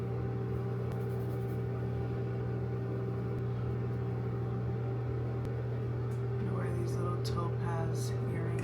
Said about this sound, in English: I'm so sorry about the fan in the back.